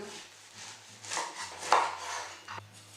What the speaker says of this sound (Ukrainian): Помиту грушу розрізаю